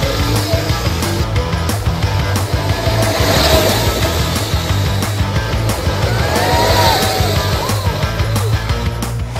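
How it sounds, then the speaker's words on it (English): Electric go-karts racing around tight corners inside a Shanghai robot factory, a loud continuous whir and rumble with rising and falling whines and tire chirps, echoing in a large indoor hall. "driving that go-kart around those tiny little corners inside the factory"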